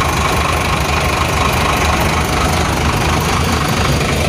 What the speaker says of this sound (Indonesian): Suara mesinnya